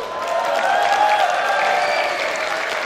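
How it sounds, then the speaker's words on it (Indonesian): An audience at a talk claps steadily, a dense, even wash of applause close by that stays at a constant level without voices. "Yang di belakang tepuk tangannya kurang semangat lah."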